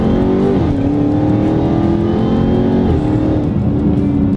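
A supercharged 6.2-liter V8 in a Dodge Charger Hellcat revs loudly and close up, its deep continuous roar rising and falling in pitch a couple of times over a few seconds.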